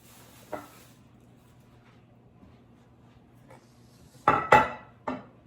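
Macaroni and cheese ingredients are stirred in a baking dish, with a few scattered clinks and scrapes of a utensil against the dish. A cluster of louder knocks comes near the end in an otherwise quiet kitchen.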